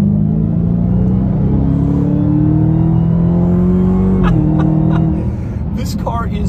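A 2020 Dodge Charger Hellcat with about 700 horsepower accelerates hard, its engine a loud, steady rising roar close by that drops briefly at a gear change, with road rumble beneath.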